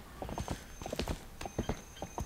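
A horse's hooves clip-clop in Zelda: Twilight Princess, a quick, steady run of bright clopping steps close up, with no talk over them.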